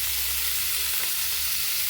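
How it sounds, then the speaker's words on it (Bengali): Boiled cauliflower frying in mustard oil in a pan, a steady soft hiss of sizzling that holds level and fairly quiet for the whole stretch, with no voices. "এটা এখন একটু ভেজে নিই।"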